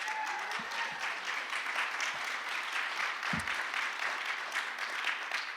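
Audience applause at a poetry event fills the room with a steady wash of clapping from many hands, moderately loud and continuous throughout, with a few sharper individual claps standing out near the front.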